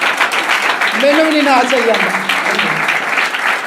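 An audience at a religious sermon claps in sustained, dense applause, loud and close, with someone speaking over it.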